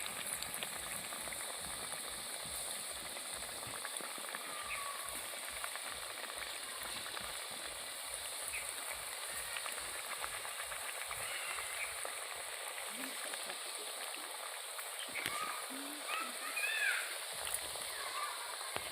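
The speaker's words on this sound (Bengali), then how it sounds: "আমি এবারে এই সুজির পিঠেগুলো ভেজে নেব।" Semolina pitha frying in well-heated oil gives a continuous, close, bubbling sizzle that holds steady throughout, with occasional small pops and clinks over the hiss.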